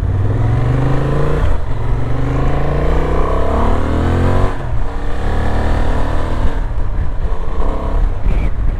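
A Honda Transalp 750 motorcycle engine drones loudly and close while riding, its pitch rising and falling through gear changes, with wind rush throughout.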